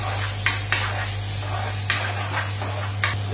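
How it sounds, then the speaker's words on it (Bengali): Onions cooking in oil in a hot frying pan give a soft, steady sizzle under a low electrical hum, with a few brief scraping stir sounds. "তো আমার ফ্রাই প্যান গরম হয়ে গেছে, এর মধ্যে আমি ঢেলে দিলাম পেঁয়াজ"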